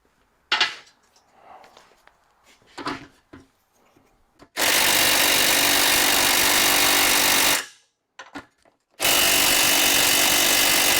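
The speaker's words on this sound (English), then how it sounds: "Let me get an impact and take care of that." An impact wrench works on a Ford L9000 Aeromax truck in a shop, giving two long, loud, steady rattling bursts, each several seconds long, after a few faint clanks and handling noises.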